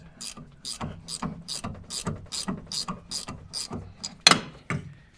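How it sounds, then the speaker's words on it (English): An 18mm ratchet spanner turns a nut on a Citroen 2CV, giving a close, steady run of about a dozen rhythmic clicking pawl strokes with one sharper louder click near the end. "This is using an 18mm ratchet spanner"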